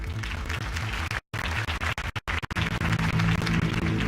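Applause from a crowd at a campaign rally for Harvey Dent, steady clapping that fills the space, briefly broken by a few sharp dropouts before continuing.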